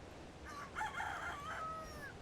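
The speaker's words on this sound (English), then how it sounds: "I hear you out there, Rooster. You just keep crowing." A rooster crows once in ARK: Survival Evolved, a clear, drawn-out cock-a-doodle-doo at moderate distance, with no voices around it.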